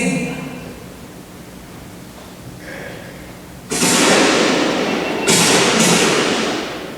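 Two sharp, loud gunshots ring out during a freshwater cormorant capture operation on a lake, each a sudden crack followed by a fading rush of noise, after a quieter stretch of low background hum.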